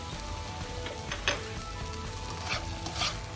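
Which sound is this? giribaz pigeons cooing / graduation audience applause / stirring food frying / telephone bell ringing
stirring food frying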